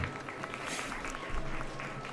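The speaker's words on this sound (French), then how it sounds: "les applaudissements sont un peu plus faibles et épars" Faint, scattered applause from a small group, thin and uneven, with a low background murmur.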